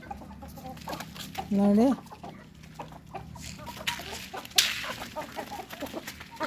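Native country chickens on a small home chicken farm give one loud, close cluck, then quieter scratching and scattered farmyard sounds, with a brief spoken word nearby.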